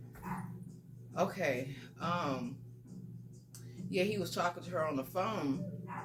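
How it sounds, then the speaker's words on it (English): Several dogs bark and yip in the background, agitated by other dogs outside, with a clear voice talking over them throughout. "Excuse the dogs over here barking in the back."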